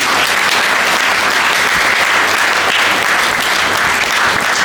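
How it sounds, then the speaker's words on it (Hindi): Loud, dense applause from a village crowd at an award ceremony honouring a world cup winning shooter, continuous clapping filling the whole stretch with no pause. "तालियों में कंजूसी"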